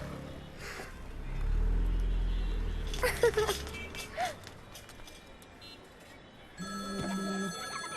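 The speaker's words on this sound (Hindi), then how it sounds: "फिर से फोन करा है। यो, उठा लो, इनकमिंग फ्री है।" A telephone rings in a Hindi film scene, a short burst of ringing tones near the end after a low rumbling passage and some scattered sounds.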